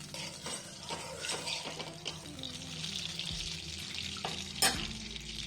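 Ghee heating in a kadhai for gajar pak, a carrot sweet, with a soft, steady sizzle and light stirring and scraping clicks at a low level and no talk.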